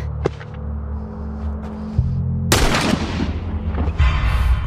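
Gunfire in The Last of Us: a faint early shot, then a loud close blast with a long rumbling decay and another sharp report near the end, no talking.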